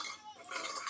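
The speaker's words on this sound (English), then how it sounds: "So I'm just gonna like just mix it like that." Fries being mixed in a pan, a brief quiet scrape and clink of a metal utensil against the cookware with a faint frying hiss underneath.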